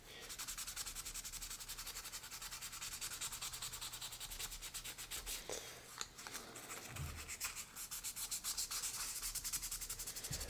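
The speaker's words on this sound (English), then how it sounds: "we could do a little bit of sanding" Steady fine sanding by hand with 600-grit sandpaper on a small die-cast model car, rapid back-and-forth rubbing strokes close up, continuous and even with no talking.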